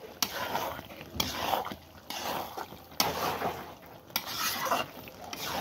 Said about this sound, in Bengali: এখন আমাদের মাংসটাকে এইভাবে নেড়ে ছেড়ে ভুনো করে নিতে হবে।